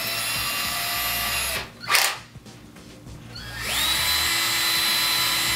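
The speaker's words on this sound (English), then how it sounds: "I'm going to pre-drill all the holes with the same bit" A power drill bores pilot holes with a single bit for mounting floating wall shelves, whining loudly and steadily, cutting out briefly in the middle, then spinning back up and running on at full speed.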